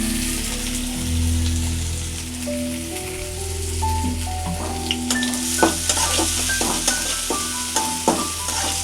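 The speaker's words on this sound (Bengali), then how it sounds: "তেলের উপরে একটু লাল করে একটু ভাজতে হবে" Onions sizzle steadily in hot oil while being stirred, with scraping and clinking of a spatula against the pan rising over the continuous frying hiss, close and fairly loud.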